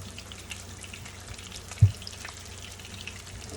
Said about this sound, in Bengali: মাছগুলো অলমোস্ট ভাজা হয়ে যাচ্ছে